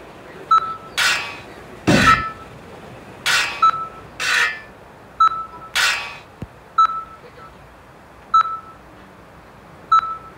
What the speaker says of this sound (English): your heart is beeping fast